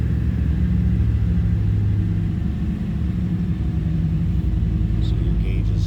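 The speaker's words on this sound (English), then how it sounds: "let's go ahead and fire up this LS1" An LS1 V8 swapped into a custom 1959 Cadillac DeVille idles with a steady, loud, low rumble throughout, with no clear start-up burst.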